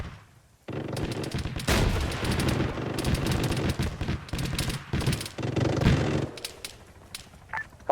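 Arma 3 gunfire volley from a firing line: many rifles and machine guns crackle together in dense, overlapping bursts, loud and sustained for several seconds before thinning into a few scattered shots.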